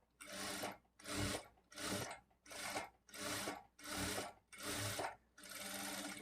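A sewing machine stitches a seam on a lining blouse in eight regular bursts, each run of whirring needle strokes separated by short pauses, close and clear with no voices.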